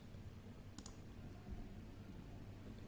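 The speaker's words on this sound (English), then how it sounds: "And then click next" A couple of quick mouse clicks on the Next button of an Oracle WebCenter Sites 12c installer, a sharp double tick close to the microphone over a steady low hum.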